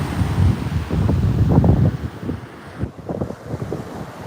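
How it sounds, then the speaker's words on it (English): Gusty wind buffets the microphone on a Virginia Beach shoreline, giving a loud, continuous low rumble with uneven surges and a brief lull near the three-second mark. "I'm glad for the wind here because I got a sweatshirt on"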